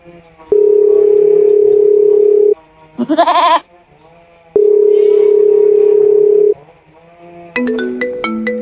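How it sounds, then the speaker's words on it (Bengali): Two long steady ringback tones from a phone call, separated by a short bleat-like sound, followed by a few quick melodic ringtone notes. "শেষমেশ ফোন করি দিই"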